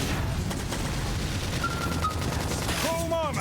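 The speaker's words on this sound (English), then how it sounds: "Flame grenade!" A Flame Grenade attack goes off in Xenoblade Chronicles X, a burst of rapid combat blasts and pops over busy battle noise, ending in bright chiming tones.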